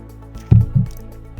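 Two quick, close gulps of water taken during a short break, heard as low squishy swallows against a quiet background.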